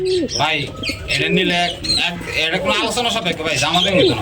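Pigeons of Budapest, Damascene, racer and Iranian breeds cooing repeatedly in rolling, throaty calls, close and loud, with chirps and someone talking throughout.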